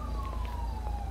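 Police car siren from a roleplay video game, a steady wailing tone sweeping slowly downward, loud and close over a constant low engine rumble, with no talk.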